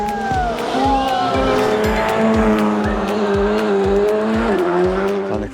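WRC rally cars at Rally Finland rush past one after another, loud, with engines revving hard, gears shifting and tires scrabbling over the gravel; a voice speaks underneath.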